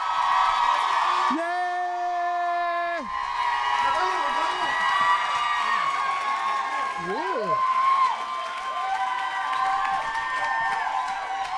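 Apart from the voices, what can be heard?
audience applauding and cheering for a guest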